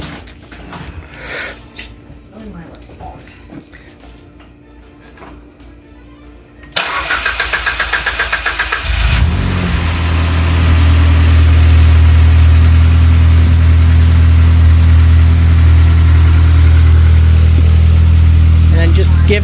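A 2011 Ford Fiesta, just fitted with a new coil pack and spark plugs, cranks and starts, then settles into a loud, steady idle close by, after a brief spell of talk.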